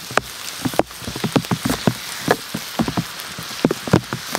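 Hard little hail pellets patter and tick irregularly on a surface nearby at a forest campsite, a scattered rattling of falling hail.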